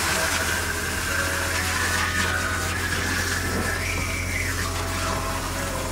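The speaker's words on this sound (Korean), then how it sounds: "자, 다시 이제 헹굴게요." Shower water runs steadily in a caravan while hair is rinsed, a constant broadband hiss with a faint pump-like hum beneath it and no talk.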